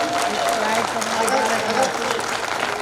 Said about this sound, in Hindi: एक बार आगे से लेकर पीछे तक एक बार मेरे सम्मान में तालियां बजा दीजिए